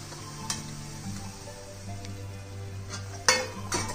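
Cut dhokla pieces being stirred into a sizzling tempering pan: a spoon scrapes and clinks against the metal over steady frying hiss, with a few louder taps near the end and no voices.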